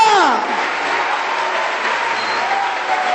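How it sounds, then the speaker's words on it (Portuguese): Church congregation applauding during an evening service, a broad dense clapping roar that follows a preacher's raised voice and holds steady to the end. "dê um aplauso a ele"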